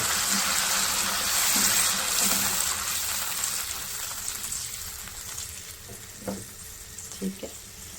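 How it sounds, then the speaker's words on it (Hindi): Water is poured into a pan of butter chicken, and a loud hissing sizzle and splashing start at once, then settle into a quieter bubbling with a few soft knocks near the end. "इसके अंदर डालेंगे तकरीबन आधा गिलास पानी।"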